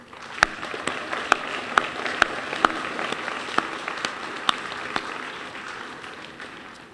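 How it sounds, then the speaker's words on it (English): Graduates and guests at the 2016 Monson High School graduation applaud for the seniors' families: a dense wash of clapping runs throughout, with sharp individual claps standing out near the front. "Seniors, please join me in a round of applause for your families"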